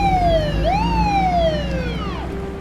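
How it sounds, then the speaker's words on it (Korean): A police car siren in a Korean drama scene, wailing loud and close with a rising and falling sweep, one dip and climb in pitch over a steady low rumble, no voices. "이내 경찰차가 도착하고"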